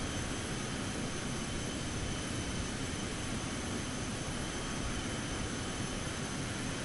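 A Citation jet climbs out in Microsoft Flight Simulator 2024, a faint, even, steady engine drone and hiss with a thin high whine running throughout, no voices.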